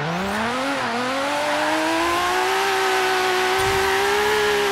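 Nissan Skyline R32 engine in Forza Horizon 3 revving loudly and steadily, its pitch climbing through a gear and holding high, with faint tyre squeal underneath; no one talks.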